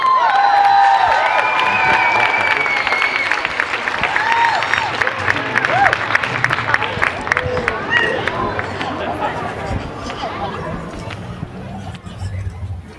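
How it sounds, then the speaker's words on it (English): A large crowd at a rally opposing a vaccine bill applauds and cheers loudly and continuously, with whoops and shouts mixed into the clapping, which gradually thins toward the end. "What a great crowd."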